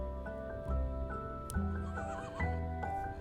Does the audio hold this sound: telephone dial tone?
no